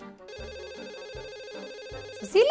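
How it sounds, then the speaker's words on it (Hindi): A telephone rings with a steady electronic warbling ringtone, repeating in pulses for a couple of seconds, loud and alone before a brief burst of other noise at the end. "किसका फोन आ गया भाई?"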